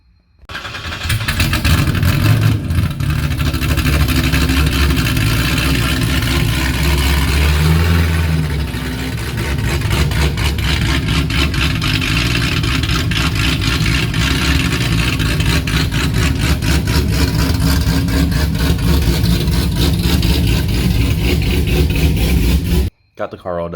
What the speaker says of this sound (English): Got the exhaust on. Should be a little bit louder, a little bit lighter.